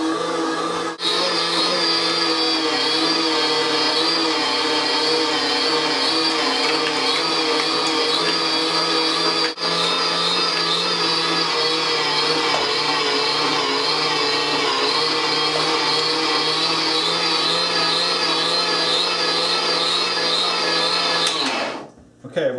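A chilled meat grinder with a cooled attachment runs steadily, grinding meat for garlic sausage in a home kitchen; the motor drones with a loud, even whine until it cuts off right at the end.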